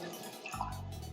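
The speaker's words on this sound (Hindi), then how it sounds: "अब थोड़ा सा इसमें हम पानी शामिल करेंगे" Water is poured into a pan while cooking egg noodles, a soft, continuous splashing fill that stays quiet and close, with no talking.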